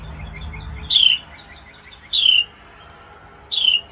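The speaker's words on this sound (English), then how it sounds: "right now I've got a bird in the background." A small bird chirps in the background indoors, giving three short bright calls spaced a second or so apart over a quiet room.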